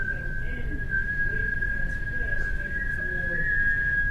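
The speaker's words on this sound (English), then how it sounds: "Whistle again." Someone whistles one sustained pure tone, steady and unwavering for several seconds, over a murmuring room background with faint voices.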